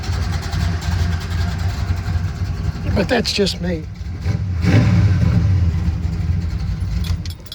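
An old Chevy engine, a 1962 Impala with a 283 V8, idles with a low steady rumble and then revs briefly, while someone talks over it nearby.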